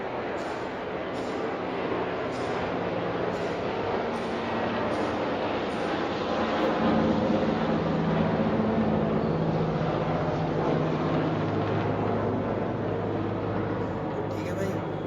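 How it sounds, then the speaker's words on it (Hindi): Helicopter passing near an air force base, heard during a home dumbbell workout: a steady, loud broadband rotor and engine roar that persists throughout and swells slightly midway. "ये देखो हेलीकॉप्टर जा रहा है"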